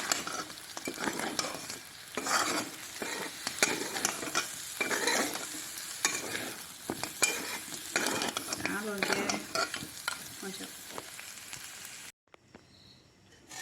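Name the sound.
dry frying in a pan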